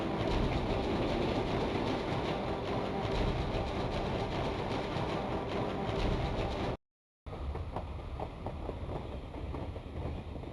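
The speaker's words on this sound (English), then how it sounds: "Okay, we hop back in the train." Train ride in the video game Gadget: Past as Future: a dense, steady rumble and rattle of rolling rail cars, loud and continuous, cut by a brief silent gap before resuming.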